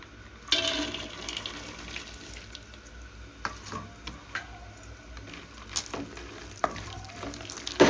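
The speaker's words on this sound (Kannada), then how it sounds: "ಬಾದಾಮು, ಪಿಸ್ತಾ, ಕಲ್ಲಂಗಡಿ ಬೀಜ ಇವನ್ನೆಲ್ಲ ಹಾಕಿ ಫ್ರೈ ಮಾಡ್ಕೊತೀನಿ" Almonds, pistachios and melon seeds fry in a pan for sheer khurma, a steady sizzle broken by irregular stirring scrapes and clacks of the spoon against the pan, close and fairly loud.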